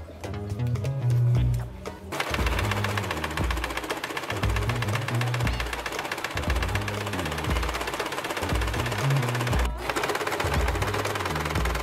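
A sewing machine stitches quilting cotton layered over muslin for a clown headpiece, a steady mechanical whir with rhythmic chattering that runs almost continuously, pausing briefly between seams.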